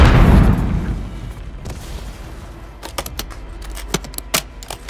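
A Semtex grenade blast in Call of Duty Warzone booms loudly and close at the start, its rumble fading over a couple of seconds before sharp clicks and rapid clatter follow.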